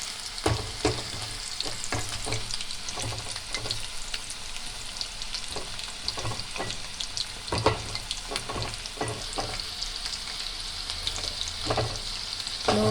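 Chicken kebabs frying in oil over a low flame, giving a continuous bright crackling sizzle close by, with scattered pops and occasional stirring or turning sounds throughout.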